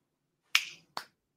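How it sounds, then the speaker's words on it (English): Two crisp finger snaps, close and clear, about half a second apart, in an otherwise silent room. "Snap your fingers right now."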